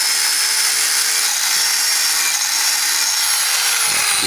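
Handmade Bowie knife blade, forged from a heavy-equipment bearing, being polished on a powered buffer, giving a steady loud high-pitched whir with a faint tonal hum, continuous and unbroken, without talk.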